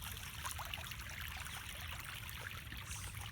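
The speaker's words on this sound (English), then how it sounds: "it's really fast moving water too" Fast-moving rainwater overflowing after a storm makes a steady, faint rushing and trickling with no talk over it.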